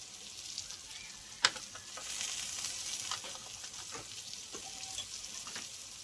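Spice masala with sour yogurt sizzles and fries in a pan for a vegetarian aloo dum, a steady crackling hiss broken by occasional scrapes and clinks of stirring, close and moderately quiet with no talk.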